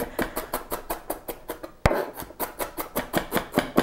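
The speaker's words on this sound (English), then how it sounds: "I'm going to chop them up kind of small" Knife chopping shallots on a cutting board in quick, even strokes, about four per second, close and distinct with one sharper knock midway.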